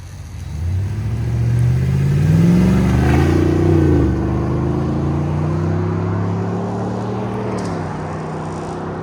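A 2023 GMC Yukon Denali with a 6.2L V8 and Borla ProXS exhaust, revving up from a deep idle into a loud, rising rumble that holds steady, then settles back down, close and alone.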